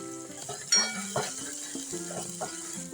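Ginger, garlic and chili paste sizzles steadily in a hot pan for a village-style spinach dish, with a soft frying hiss under brief clinks and scrapes of a spoon stirring against the pan.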